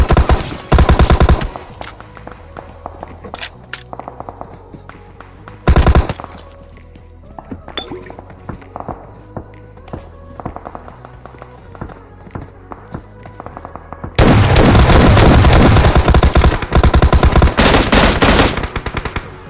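M16 rifle fire in PUBG Mobile during a hot-drop fight: loud bursts open and recur briefly mid-clip, then a sustained heavy volley closes it, with quieter game ambience and sparse clicks between.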